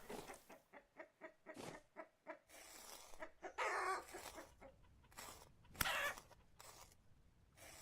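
Chickens clucking in the video game Vintage Story, a series of rhythmic, close clucks and bursts of squawking, fairly quiet, with a sharp click partway through.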